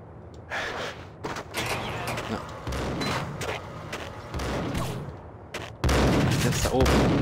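A chaotic burst of gunfire and blasts in the video game Max Payne, sharp cracks and booms piling up, ending in a louder, sustained roar.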